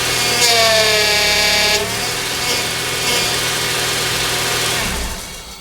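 A 2001-2005 Honda Civic engine idles steadily with a leaking power steering hose, a close, even hum with a faint whine on top and no talk.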